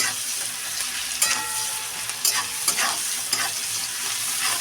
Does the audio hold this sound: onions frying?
yes